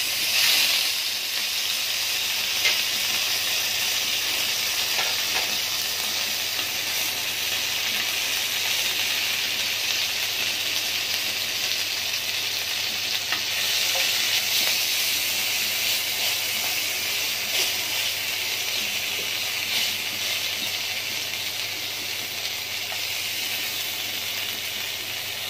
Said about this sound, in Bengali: আমি এখন বাঁশপাতা শুটকিটা দিয়ে দিচ্ছি।